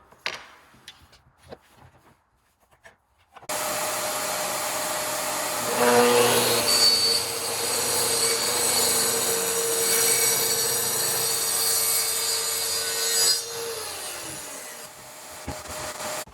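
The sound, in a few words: track saw cutting barnwood boards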